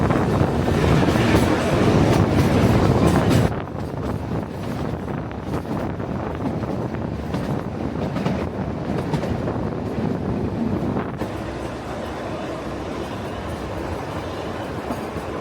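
Kalka–Shimla toy train climbing through the hills toward Shimla, a steady rumble of the rail cars with wind buffeting the microphone, louder for the first few seconds then continuing evenly.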